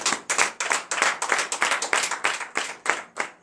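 A congregation at a morning prayer service in Benin claps in rhythmic unison in acclamation to the Lord, about fourteen crisp, evenly spaced beats, close and loud.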